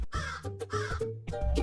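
A crow caws several times in a children's cartoon story, a few harsh, nasal calls in quick succession, close and clear with no talk over them.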